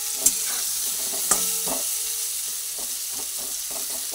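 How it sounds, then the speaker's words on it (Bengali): Pieces of pointed gourd fry in a pan with turmeric and Kashmiri chili powder, giving a steady, close sizzling hiss broken by a few sharp clicks and scrapes of stirring. "পটলগুলো ভেজে নিচ্ছি"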